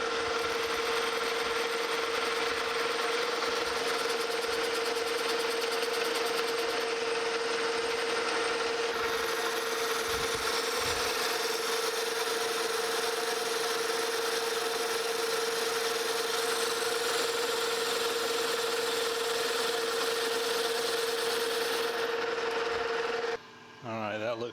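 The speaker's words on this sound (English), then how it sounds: "So we'll get us a tool here and just come in there and clean that up." A lathe cutting tool cleans up the face of a machined brass-type fitting during a steam locomotive try-cock repair with tapered threads, giving a steady grinding, rubbing machine hum with a constant tone, close and continuous, stopping near the end.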